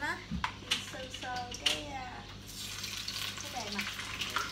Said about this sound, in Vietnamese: Giờ mình chiên sơ con cá này cho nó bớt tanh á, chiên sơ sơ